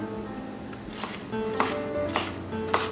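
A knife chops a white onion on a cutting board, with several sharp, crisp chops spaced out over a few seconds, close and moderately loud.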